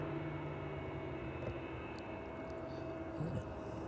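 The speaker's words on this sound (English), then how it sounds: "Surprise aircraft there, just making a arrival into East Midlands, the JCB Bombardier" A JCB Bombardier jet arrives at East Midlands Airport on a clear evening, its engines a steady, distant roar that holds throughout.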